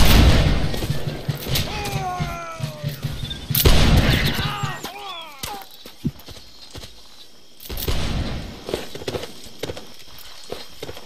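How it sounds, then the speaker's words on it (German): Gunfire volley in a Whigs and Tories period battle video game, sharp loud cracks among horse clip-clop and whinnies, with game sounds layered throughout. "Schuss, Rekrut Lutz."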